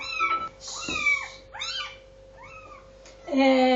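Domestic cat meowing and grumbling repeatedly, several drawn-out rising and falling calls close by, with brief pauses between them and a louder, sustained complaint at the end.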